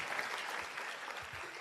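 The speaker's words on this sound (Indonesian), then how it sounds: "Tepuk tangan buat TNC dan One Vision." An audience at a motivational business seminar applauds, brief steady clapping heard from a distance and fairly faint.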